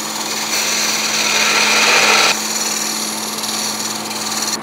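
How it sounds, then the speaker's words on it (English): A skew chisel cutting a wooden yo-yo spinning on a lathe gives a loud, continuous shearing hiss over the motor's steady whine, growing harsher in the middle and then easing off, with no speech. "Out with my skew chisel."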